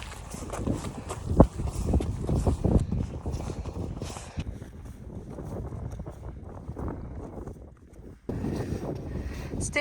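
Wind gusts roar across the microphone on a steep Munro hike up Ben Wyvis in the Scottish Highlands, a loud, rough buffeting mixed with footsteps that eases briefly before surging again at the end.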